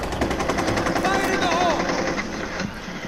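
Rapid gunfire from a Rainbow Six tactical shooter match fills the moment: dense, continuous bursts with busy game sounds, loud and close throughout, while players talk over it.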